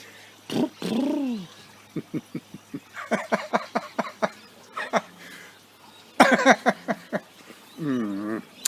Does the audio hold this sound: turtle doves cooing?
yes